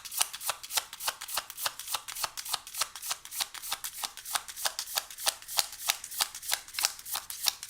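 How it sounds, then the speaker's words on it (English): Spirit animal cards are shuffled in a quick, steady run of crisp riffling flicks, close and fairly quiet, with no voices. "We're going to pull a couple of spirit animal cards"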